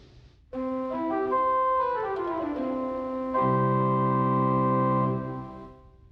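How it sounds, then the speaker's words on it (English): An 8-foot open diapason stop drawn on the great manual of a pipe organ plays a sustained, bright, thick chord progression, its notes held and shifting, one voicing swelling fuller before releasing into a soft room decay. "open diapason number 1,"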